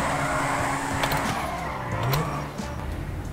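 Zentorno supercar sliding through a drift in GTA 5: a loud, close engine drone whose pitch sags and swoops around the middle, over continuous tire hiss and squeal.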